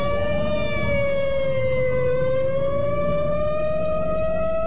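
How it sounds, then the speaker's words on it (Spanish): Loud, continuous siren wail with slowly rising and falling pitch, dominating over a low rumbling background. "3 autos patrulla recorrían las calles velozmente, haciendo ulular sus sirenas"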